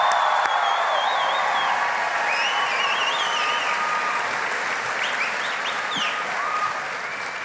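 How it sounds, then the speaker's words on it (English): A large outdoor political rally crowd in Greeley, Colorado claps and cheers loudly and continuously, with whistles and shouts rising above the sustained applause throughout. "can we get another round of applause for Victoria?"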